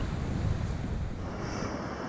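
Sea surf washing against a rocky shore, a steady low roar mixed with wind buffeting the microphone, continuous and close with no talking.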